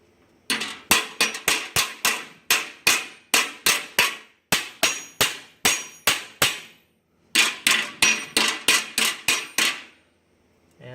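Hammer blows ringing on metal as a round edge is shaped, a steady series of sharp, loud, evenly spaced strikes in bursts, with a short pause midway and another near the end.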